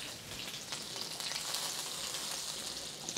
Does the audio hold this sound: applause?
no